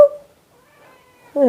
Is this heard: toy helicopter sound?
no